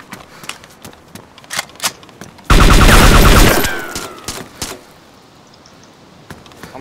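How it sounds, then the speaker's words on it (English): Burst of automatic gunfire in the video game DayZ during a night player-versus-player fight, a dense, loud volley lasting about a second and a half, with scattered distant shots and clicks before and after. "He's shooting at me."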